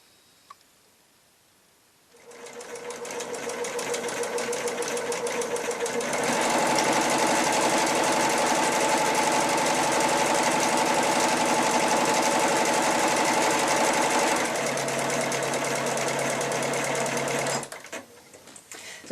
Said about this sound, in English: So this is an Elna, a computerised sewing machine.